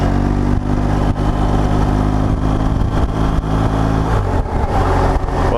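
A BMW 1200 GSA adventure motorcycle rides along with a loud, steady engine drone and continuous low rumble, close up, with slight shifts in pitch as the throttle changes and no talking.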